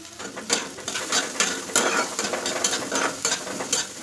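Soybean chunks fry in hot oil with leftover potatoes, giving a steady close sizzle broken by repeated scraping bursts as the pan is stirred.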